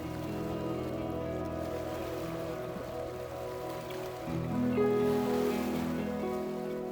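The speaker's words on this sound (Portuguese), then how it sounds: "observa as ondas suaves batendo nas rochas" Gentle sea waves wash against coastal rocks on the Malta coast in a steady, continuous wash of surf, swelling slightly louder toward the end, with a faint low hum underneath and no voices.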